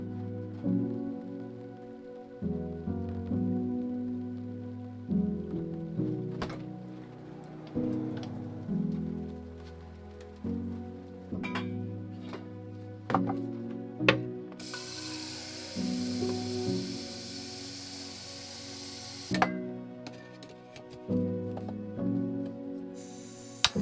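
Rain patters on the metal roof of a van parked in the Outback during a storm, soft irregular drops over a muted interior hum, with a brief burst of brighter hissing spray midway.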